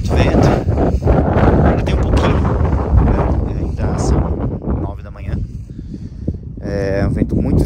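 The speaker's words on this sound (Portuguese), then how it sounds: "Amanheceu com muito vento." Strong wind on Aconcagua mountain at dawn, loud continuous gusting roar buffeting the microphone, easing briefly midway and then rising again.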